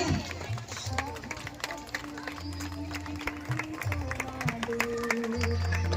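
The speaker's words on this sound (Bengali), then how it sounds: "Clap your hands till she reaches near the stage." A crowd at a political rally claps steadily as a politician, Chandrima Bhattacharya, walks to the stage, a dense busy patter of applause under a loud voice speaking over it.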